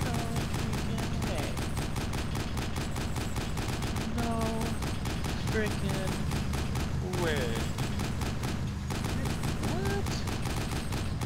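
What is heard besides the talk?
gunfire in the video game Arma 2 Overpoch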